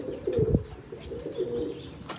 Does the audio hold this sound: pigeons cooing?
yes